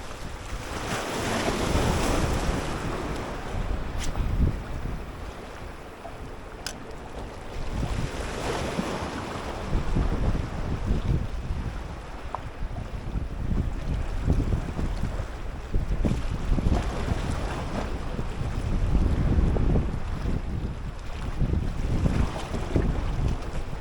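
Strong wind roars across the microphone aboard a fishing boat at sea in the early morning, with steady waves and surf washing beneath it, loud and continuous throughout.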